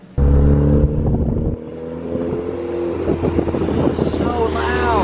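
A Volkswagen Golf R MK7 fitted with a new 4-inch downpipe: its exhaust booms loudly with a deep, heavy drone and revving engine tones, and a voice talks over part of it.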